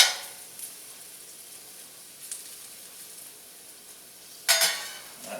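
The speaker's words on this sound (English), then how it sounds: "I just move around the onion just a little bit, make sure everything gets good and soft" Onion sizzling in a hot pan for a smash burger, a steady close hiss with a few soft spatula scrapes and a sharper stir burst near the end.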